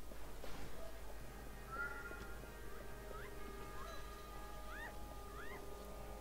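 A cat in the video game Alice: Madness Returns gives several short, faint meows with rising, wavering pitch, scattered over a low steady background drone.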